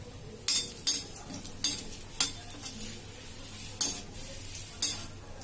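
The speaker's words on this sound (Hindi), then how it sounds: "तो ये उसी कढ़ाई में हमने थोड़ा सा घी डाल दिया है। तो सबसे पहले हम हल्का सा, बहुत ज्यादा नहीं, हल्का सा नारियल भूनेंगे।" Coconut roasting in ghee in a kadhai, with a steady faint sizzle and several sharp scraping strokes of a spoon against the pan spaced a second or so apart.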